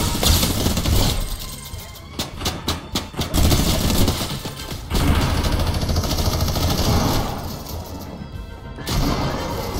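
Gunfire in a Fortnite-style shooter game, bursts of rapid shots and crashing impacts alongside loud explosive rumbles, dense and close throughout.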